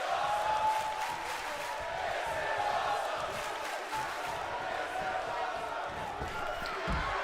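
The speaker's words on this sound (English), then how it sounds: "Crowd loving this." WWE 2K22 video game arena crowd cheers during a ladder match, a steady roar with swelling bursts of noise and thumps, alongside murmured voices in the background.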